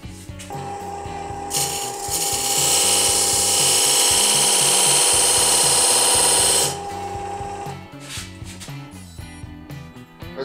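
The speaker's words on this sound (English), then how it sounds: "I think I'll do some sanding now." A turned wooden bracelet is sanded on a spinning lathe, a loud steady abrasive hiss over the motor's hum lasting several seconds, then dropping back to the lathe running alone.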